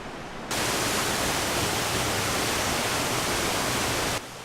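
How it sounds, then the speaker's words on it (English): Steady, dense rush of falling water, loud and unbroken, like a waterfall in Japan heard up close with no voices. "after enjoying the sparkly splendor of the waterfall"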